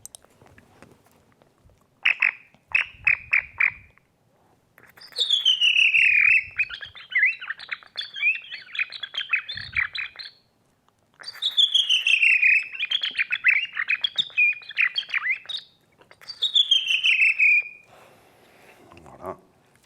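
A person whistles an imitation of a redwing thrush song in repeated bursts of bright, descending trills and chirps separated by short pauses, close and clear.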